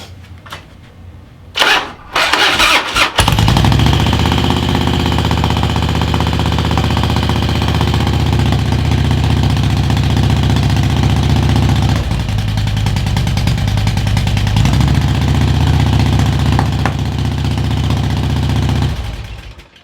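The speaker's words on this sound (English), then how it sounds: "So you want to go ahead and try to throw a spark plug in it and see if it'll start on both cylinders this time?" A stolen Harley-Davidson Street Glide's V-twin engine cranks with a couple of brief bursts, then catches and settles into a loud, lumpy idle on both cylinders, running close and steady before cutting off.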